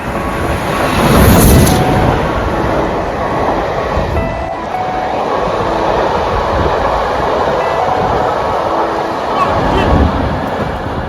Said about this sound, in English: Guys, we've got a steam train.